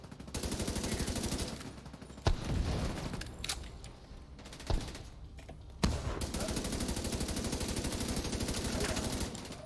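Sustained automatic gunfire in The Division 2, a continuous rattling stream of shots with a few heavier sharp reports breaking through, moderately loud and steady throughout.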